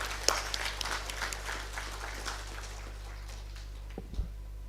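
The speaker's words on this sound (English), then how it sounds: "So let us give a big applause to her." Audience applause at a live-streamed gathering, a modest patter of clapping over a steady low hum that thins out and fades, ending with a couple of faint thumps.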